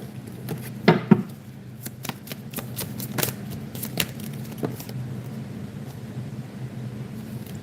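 A deck of playing cards is shuffled close by: a few crisp riffles and soft flicks, quiet against a faint background hum.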